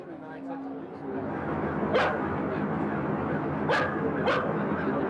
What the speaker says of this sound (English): dog kept running into the scene